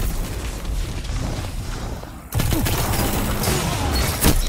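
Dense, layered gunfire from a weapon in the video game Destiny 2, a rapid fusillade of shots with booming impacts, louder and busier in the second half, with faint voice underneath.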